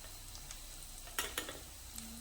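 Spice masala for a brinjal bhaji sautés in a pan with a faint, steady sizzle, broken by a couple of quick scraping stirs partway through.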